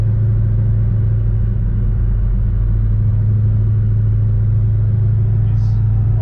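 A tuned 2006 Saleen Extreme Mustang with a JLT Series 3 cold air intake and Cook's long tube headers gives a deep, continuous engine rumble heard from inside the moving car, loud and steady without distinct rev peaks.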